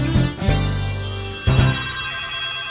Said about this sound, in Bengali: প্রথমে শুনুন এক মহিলার ফোন।